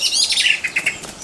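A disturbed blackbird gives a quick run of sharp, high chirping alarm calls as it flies off, with a faint flutter of wings, close and clear in a quiet garden.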